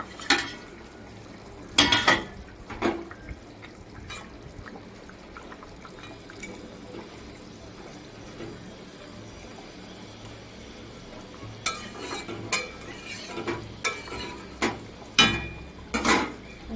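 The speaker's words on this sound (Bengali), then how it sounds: "মাছের মাথাগুলো ফুটে গেছে, এবার মাছগুলো দিয়ে দেবো" Katla fish pieces go into a boiling curry, with a soft simmer underneath and intermittent clinks, splashes and spoon scrapes against the pot, clustered near the start and again toward the end.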